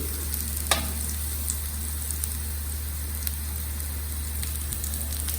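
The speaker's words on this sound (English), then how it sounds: "You just need the vagar, rye, mustard and sesame seed." Mustard, rye and sesame seeds sizzle in hot oil as a tempering for patra made with arbi leaves, giving a soft, steady crackle with a few sharper pops.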